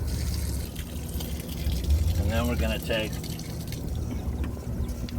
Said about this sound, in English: start to fill